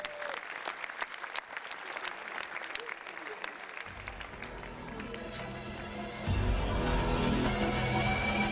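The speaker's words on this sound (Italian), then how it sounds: "un grande applauso ad Antonio Mezzancella" A theatre audience applauds a performer at a memorial evening, with dense clapping throughout that swells and grows louder near the end, and a voice speaking over it.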